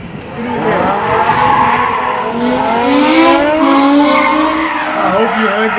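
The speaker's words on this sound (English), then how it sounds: "I hope you heard that engine note of that M5, just beautiful, V10 power, just being driven on the limit." BMW M5 with a V10 engine driven sideways at the limit in a Witzenberg Motorklub gymkhana test, its engine roaring continuously as the tires squeal loudly through a long slide, close and sustained.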